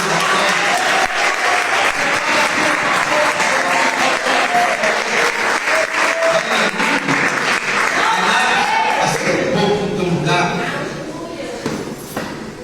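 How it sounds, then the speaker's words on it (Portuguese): Sustained, loud congregational applause fills a church service, dense clapping with shouts mixed in, continuing strongly before thinning out toward the end. "Você pode aplaudir."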